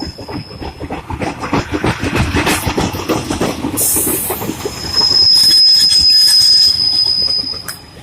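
A Northern Class 144 diesel unit at Swinton station in South Yorkshire squeals its wheels loudly and close by, with a steady metallic screech over a rumbling train that grows louder midway.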